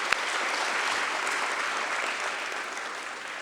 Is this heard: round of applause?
yes